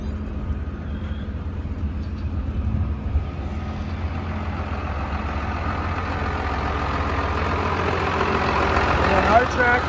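A tractor engine idles steadily near a folded White 6346 16-row 30 planter, a constant low rumble that swells slightly toward the end, with voices talking over it.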